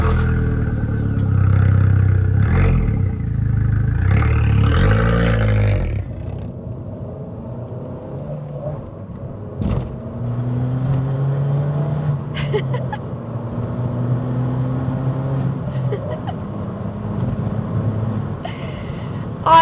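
An Abarth 695 75th Anniversario hatchback on the road, its engine revving and pulling through the gears: a loud, close rumble and roar at first, then a sustained droning engine note that climbs and falls with wind and road noise.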